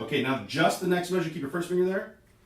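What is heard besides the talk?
None of the usual background noises is heard.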